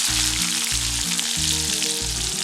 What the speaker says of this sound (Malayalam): ഇത് കണക്കെ മുഴുവനും സവാളയും വറുത്തെടുക്കാം കേട്ടോ.